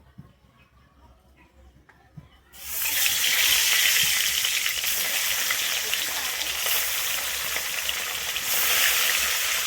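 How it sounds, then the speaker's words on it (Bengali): Tangra fish frying in hot mustard oil in a kadai on a stove: a loud, steady sizzle bursts in after a quiet start and crackles continuously to the end, close up. "আমি ট্যাংরা মাছটা কিন্তু উল্টে পাল্টে ভেজে নিয়েছি"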